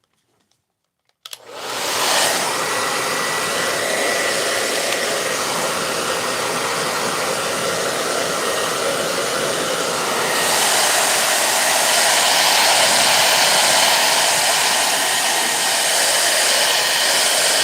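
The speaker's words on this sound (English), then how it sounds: "I'm going to now take my hairdryer out again, and I'm going to apply some more heat to dry this out" A hairdryer switches on after a brief silence and blows steadily and loudly, drying freshly painted rocks; the broadband rushing airflow holds a constant pitch, growing slightly brighter partway through, with no talking.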